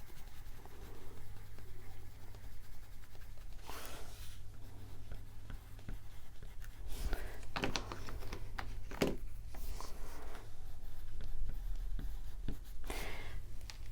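Brown Crayola crayon drawn across paper, giving a series of short, dry scratchy strokes in separate bursts at close range.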